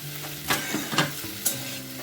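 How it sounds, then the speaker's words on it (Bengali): Already-fried chicken pieces stir-fried in a pan for chilli chicken: a continuous sizzle broken by a few sharp scrapes and clatters of the spatula, with faint tonal music underneath. "এবার চিকেনটাও দিয়ে দেবো, চিকেনটা একটু এক্সট্রা ফ্রাই করে ফেলেছি আমি, একটু এটার সাথে ভেজে নিই।"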